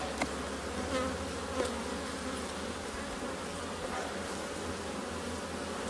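Swarm of honeybees buzzing steadily around open hive frames during a queen-rearing grafting inspection, a dense continuous drone close by with no talk.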